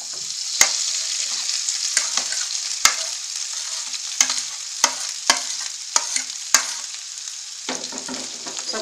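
A spatula stirs onion, mashed potato and peas together in a hot pan, making a loud sizzle punctuated by sharp, irregular clacks of utensil against metal.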